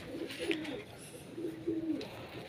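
Young racing pigeons in a loft give soft, low throaty coos in two drawn-out phrases, close by and fairly quiet over a steady background hiss.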